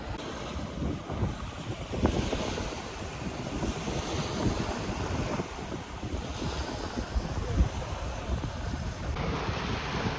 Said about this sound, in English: It's a bit windy still.